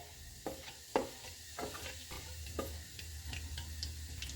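Bay leaf, cinnamon, green cardamom, cloves and cumin frying in hot oil for Bombay biryani, with soft crackle and several scattered utensil taps and scrapes, close and moderately quiet, no voices.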